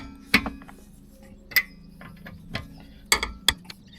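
Wheel bolts on a 2013 Hyundai Santa Fe 2.2 diesel being loosened with a 21 mm socket wrench: sharp metallic clicks and cracks spaced irregularly over quiet background, close and alone.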